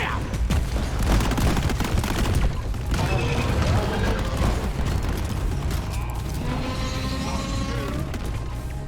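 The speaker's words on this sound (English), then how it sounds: "It's not the grenade I was expecting." A grenade goes off in the video game Deep Rock Galactic, its booms buried in a dense, loud mix of rapid gunfire, mechanical clanking and creaking game noise that never lets up.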